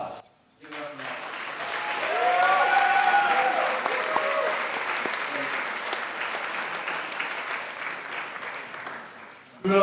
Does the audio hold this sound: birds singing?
no